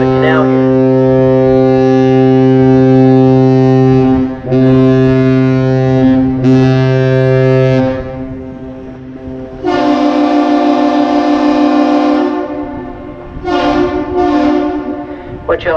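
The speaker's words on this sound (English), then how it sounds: "The ship initiates a greeting with one long blast followed by two short blasts, and the bridge responds with the same thing." Ship horn of the Arthur M Anderson sounding a captain's salute, deep, loud, droning blasts of varying length, one long and shorter ones, answered by a bridge horn, with brief gaps between.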